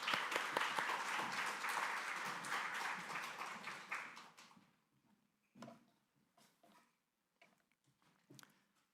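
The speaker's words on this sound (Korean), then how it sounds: "우리 박수로 한번 격려했으면 좋겠습니다." Church congregation applauding at a Sunday worship service, dense steady clapping for about four seconds that then fades into sparse scattered claps and quiet room noise.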